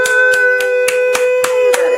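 Group clapping at a small child's birthday party, eight sharp, evenly spaced claps in a steady rhythm, with a sustained sung or hummed tone running underneath.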